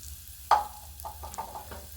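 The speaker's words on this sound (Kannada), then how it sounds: "ಈಗ ಗ್ಯಾಸ್ನ ಫುಲ್ಲು ಸ್ಲೋ ಫ್ಲೇಮಲ್ಲಿ ಇಟ್ಕೊಂಡು ಈ ರವನ ಉರಿಬೇಕು" Semolina (rava) roasting in a little oil over a very low gas flame, with a single scrape of a stirring spoon followed by quieter, intermittent scraping and a soft, steady sizzle close by.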